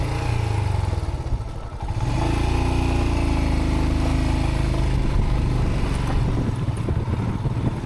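An off-road motorcycle with thin tyres rumbles steadily over loose rubble on a rough track in the Zanskar Valley. The engine drones loud and close, with a brief dip and then bumpy clattering, and no talk.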